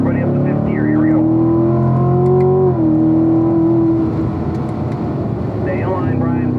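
A car on a race track pulls hard with a loud engine drone that climbs, drops briefly at a gearshift and climbs again toward fifth gear, with someone talking over it.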